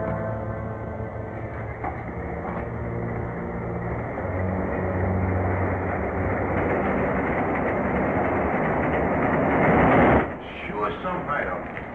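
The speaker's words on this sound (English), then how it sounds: "There's a train coming." A rumbling train grows louder and heavier, swelling to a roar before cutting off abruptly, with voices and music layered over it.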